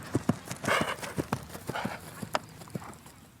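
Horses ridden in polo-style play give off sharp clip-clopping hooves in an uneven rapid rhythm, with loud close strikes and a soft snort or whinny mixed in.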